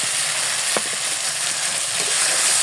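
Fried potatoes go into a tomato and rohu fish curry, setting off a loud, constant sizzle with a brief clatter as the pieces land in the pan.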